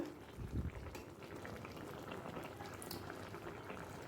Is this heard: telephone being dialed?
no